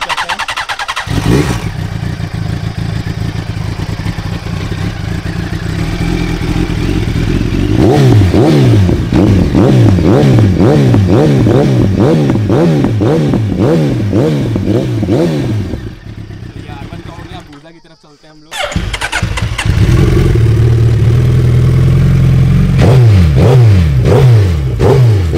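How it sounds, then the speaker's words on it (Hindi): A Suzuki Hayabusa or Yamaha YZF-R1 superbike exhaust burbles at idle, then revs repeatedly in sharp rising bursts, cuts out briefly, and fires up again to rev once more, loud and close. "एंड एग्जॉस्ट साउंड दोनों के सुना देते हैं एक बार हम लोग।"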